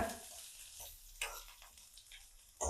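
Garlic and onion fry in oil while being stirred, giving a faint crackling sizzle with soft scraping spoon strokes and a couple of brief louder clatters.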